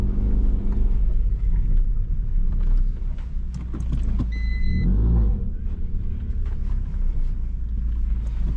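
A car engine rumbles steadily while the vehicle drives slowly and turns on a ramp, with low continuous motor drone, a brief rise around the middle and faint mechanical clicks.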